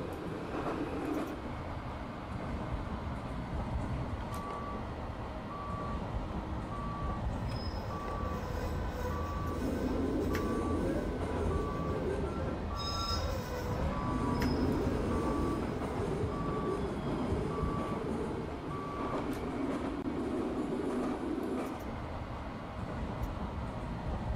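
A tram rumbles along the track with repeated grinding noise from its track brake, while a regular electronic beep pulses steadily in the background.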